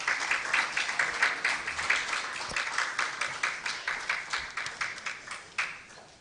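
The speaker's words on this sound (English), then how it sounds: "Please give him a round of applause" An audience at a formal launch event for Coca-Cola Nigeria claps steadily for several seconds, a dense, even patter of many hands that gradually thins toward the end.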